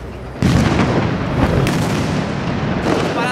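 New Year's Eve fireworks and firecrackers exploding over Naples, a loud dense barrage of booms and crackling bursts that starts abruptly and keeps rolling with several sharper blasts, close and sustained.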